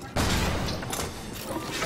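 A headquarters is shelled in the Resident Evil 5 video game. A sudden heavy blast hits after a brief quiet, followed by continuous rumbling explosions and crashing impacts that stay loud throughout.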